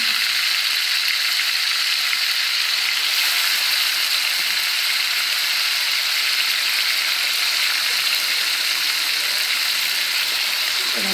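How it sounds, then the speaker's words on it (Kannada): Green chicken hara bhara kebabs fry in hot oil on a low gas flame, making a steady, close sizzling hiss that runs without a break for the whole stretch. "ಸ್ವಲ್ಪ ಬಿಸಿ ಇರಲಿ ಎಣ್ಣೆ ಆಮೇಲೆ ಗ್ಯಾಸನ್ನು ಸ್ಲೋ ಮಾಡಿ ಇದನ್ನು ಫ್ರೈ ಮಾಡಬೇಕು"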